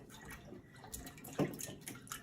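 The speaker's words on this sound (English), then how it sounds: "So I basically massage the rice grains a little bit." Hands swish and massage rice grains in cloudy starchy water while preparing sushi rice, making soft, close, continuous sloshing with small splashes and one slightly louder swirl midway.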